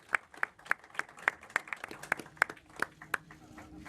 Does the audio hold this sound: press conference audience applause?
yes